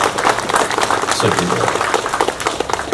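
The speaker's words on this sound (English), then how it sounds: "I think round of applause should be there." Audience applause in a crowded hall, dense and loud clapping that sustains throughout without a break.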